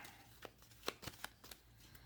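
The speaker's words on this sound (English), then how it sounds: "so we'll shuffle that back into the deck" A deck of cards being shuffled during a board game: a couple of quick riffling bursts with sharp snaps, close and fairly quiet, with no talk.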